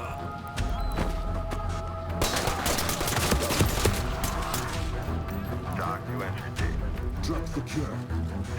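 Bursts of 5.56 rifle fire from a Ready or Not tactical shooter session, sustained and dense over a cluttered game mix with thumps and impacts, with speech running underneath.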